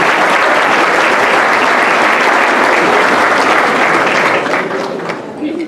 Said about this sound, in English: So if you will help me in giving them a round of applause.